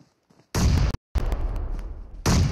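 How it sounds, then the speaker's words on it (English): Grenades detonate in a video game, a pair of heavy booming blasts with a short gap between them, then a rumbling tail, and a third loud blast right at the end. "Nade starting to fly on in all over."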